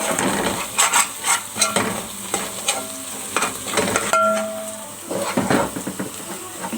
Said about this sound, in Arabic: كل ما تمسك في الحله هفضل اقلب كده بمعلقه خشب او اي معلقه عندي